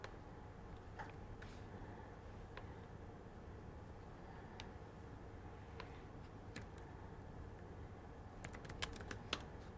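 Faint, quick clicks of typing on a computer keyboard come in short irregular bursts over a low steady hum, sounding a little distant, with no talk.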